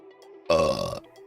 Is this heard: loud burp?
yes